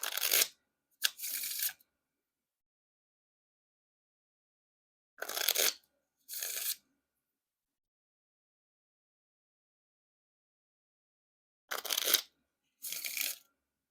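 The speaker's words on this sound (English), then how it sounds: "now time for the Riffle Shuffle or Bridge Shuffle" Three pairs of brief riffle-and-bridge shuffles of a Black Fontaine Brain Dead playing card deck, each a crisp fluttering burst followed by a softer bridging cascade, separated by silence, close and quiet.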